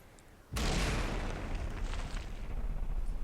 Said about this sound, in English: some more torpedoes coming in here